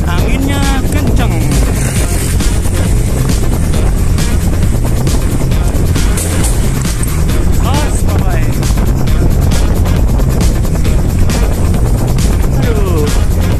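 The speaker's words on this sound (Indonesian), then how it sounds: "anginnya kenceng, gengs." Strong wind buffets the microphone while cycling across a bridge in Taiwan, a loud, continuous rumbling roar with gusty surges throughout, as someone talks underneath.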